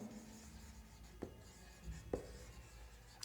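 Chalk or a marker scratches and taps across a board during a chemistry lesson. The strokes are faint and close, with a few sharper taps and no talk.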